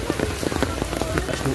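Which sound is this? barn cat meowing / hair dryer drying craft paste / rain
rain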